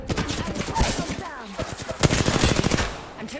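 Rapid bursts of automatic gunfire in the Apex Legends battle royale game, dense and loud, with shots layered over game effects and brief voice callouts.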